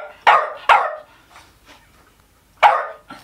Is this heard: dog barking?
yes